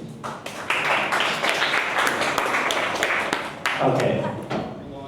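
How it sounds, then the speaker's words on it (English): A room of people gives a round of applause for a presenting group, dense clapping close by that swells, dips near the end and picks up again. "a round of applause for the first group, please"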